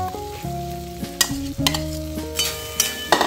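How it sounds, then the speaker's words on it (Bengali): Fried potatoes are tipped into a spice mix of cooking peas for a broccoli dish, and there is a loud sizzle with sharp scraping stirs and clatters. Background music with steady tones plays throughout. "এবার ভাজা আলুগুলো দিয়ে দিচ্ছি।"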